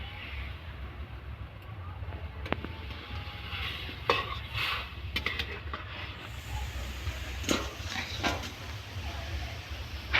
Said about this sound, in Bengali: এর মধ্যে এবার আমি কলাগুলো দিয়ে দিলাম কোনো ঢাকা লাগবে না একটুকু নেড়ে চেড়ে নামিয়ে দিতে হবে